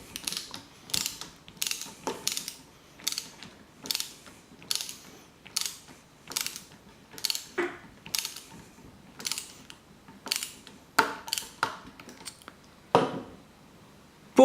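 Small screw being tightened into a wheel of a DeLorean scale model car, giving a steady series of short ratcheting clicks in bursts roughly every half second, close and fairly quiet with no talking.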